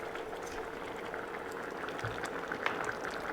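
A pot of pumpkin pickle with lime zest boiling on the stove, a soft continuous bubbling and simmering hiss, fairly quiet and steady with no talk.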